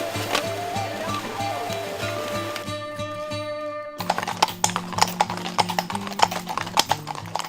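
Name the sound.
horse hooves clip-clopping on asphalt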